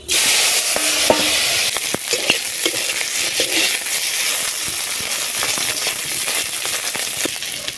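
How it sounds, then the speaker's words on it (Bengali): Dried fish sizzles loudly in hot oil in a village-style wok, a dense continuous crackle throughout, with a few sharp metallic clinks and scrapes from stirring. "কড়াইয়ের মধ্যে দিয়ে দেব তেল, মাছগুলো ভেজে নেব।"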